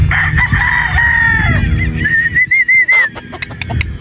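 A Boston Roundhead broodstag rooster crows nearby in one long, wavering call that rises and falls, with a few short clucks after it and faint background noise.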